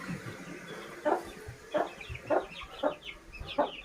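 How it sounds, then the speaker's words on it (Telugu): Chickens clucking close by inside a house, several short calls at a steady pace with soft shuffling between them. "మా కోళ్ళు చూడండి ఇంట్లోకి వచ్చాయి."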